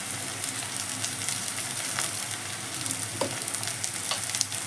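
Okra and onions with salt frying in a pan, a steady close sizzle with scattered light stirring clicks and scrapes, no voices.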